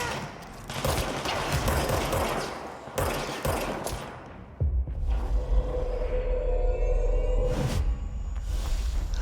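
Rapid automatic gunfire in the Control video game as an ally shoots at an enemy, loud repeated bursts with rumbling booms and whooshes between volleys.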